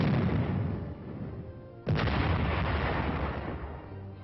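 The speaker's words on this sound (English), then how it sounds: "The M47 medium tank is equipped with a heavier gun, a 90mm, whose range is greater." An M47 medium tank's 90mm gun fires a single heavy boom that cuts sharply through a steady background rumble on an old, muffled field recording.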